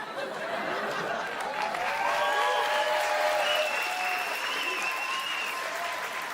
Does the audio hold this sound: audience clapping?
yes